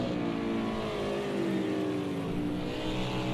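Race cars in Project Cars 2 drive through a chicane, with a continuous loud engine drone and shifting revs sustained throughout, no talk over it.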